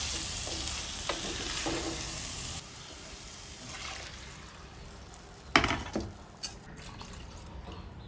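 Sautéed tomato masala for a Rapana venosa sea snail curry is stirred in a pan, giving a steady sizzling scrape with a few sharper clinks and clatters near the end, close up and without talk.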